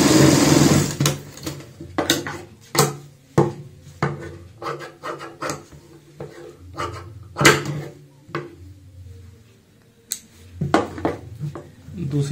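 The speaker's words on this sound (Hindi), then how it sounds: "दूसरी साइड भी हम सेम इसी तरीके से सिलाई कंप्लीट कर लेते हैं।" A sewing machine stitches the side seams of a designer baby frock in short, uneven bursts of rapid clatter separated by brief pauses, close and fairly loud, with light handling noise between runs.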